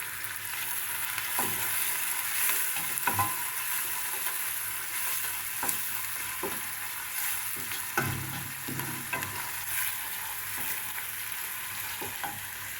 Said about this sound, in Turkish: Şimdi bunu kavuracağım.